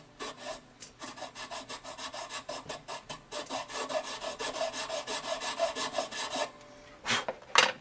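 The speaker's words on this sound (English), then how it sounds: "I'm trying to hold the file at the same angle the peg head here is." Rhythmic rasping strokes of a file shaping a Tusq guitar nut on a Gibson Southern Jumbo, close and steady, a regular series of scrapes that pause briefly and end with a couple of sharper taps.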